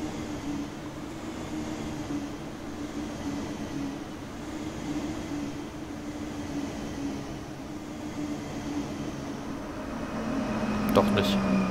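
A modded ICE 3 class 403 high-speed train in Train Sim World 3 on the Kassel–Würzburg line, a steady low droning rumble with a persistent hum, swelling slightly toward the end, while someone talks over it.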